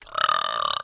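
One sustained, loud belch lasting nearly a second, steady and close, with no speech over it.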